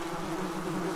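Yellow jacket wasps buzz in a steady, close drone that holds throughout, with no voices.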